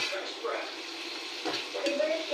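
Shrimp sizzle and crackle steadily in a hot pan while a utensil scrapes and stirs, with a few faint clinks over the constant frying hiss at close range.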